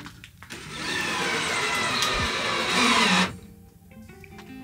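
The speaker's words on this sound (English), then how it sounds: "putting the screws into these brackets" A cordless drill whirs for about three seconds while driving screws into brackets during a camper van kitchen build, a steady close motor whine that stops abruptly, leaving quiet background.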